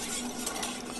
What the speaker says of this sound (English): We whisk that.